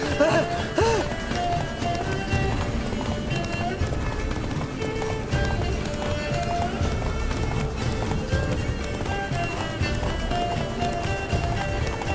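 Roach, the horse in The Witcher 3 Blood and Wine, gallops with steady, busy hoofbeats under game music and ambience, with a brief whinny near the start and voices talking over it.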